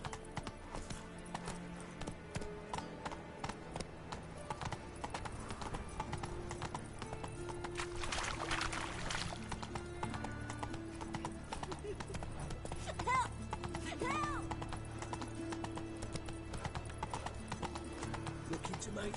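Roach, Geralt's horse in The Witcher video game, trots in a fast, even clip-clop rhythm that runs the whole time beneath game ambience and a brief whinny-like call.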